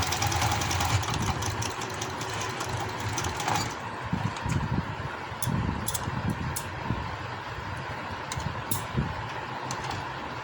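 A sewing machine runs back and forth over the elastic waistband of palazzo trousers, making a low, pulsing motor hum that surges and eases repeatedly. The sound is fairly quiet and close, with light clicks at the end.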